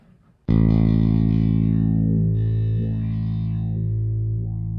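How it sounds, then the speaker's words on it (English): A distorted bass note through a Double NFP Jazzplate neck filter preamp rings out after a short silence, its tone sweeping up and down in a slow, vocal wah-like filter motion; loud and sustained, no talking. "Now you can hear it gives you that kind of wah-wah sound"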